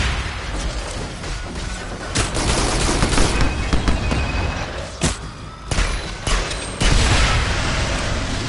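Enemy fire in Farpoint arrives as loud, close bursts of machine-gun rattle and heavy booms, layered thickly and nearly unbroken with a few brief lulls.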